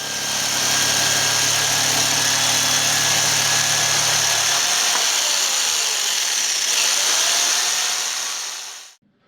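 A power tool whines steadily at close range with a constant high-pitched motor drone, its low rumble dropping away midway before the tool cuts off abruptly.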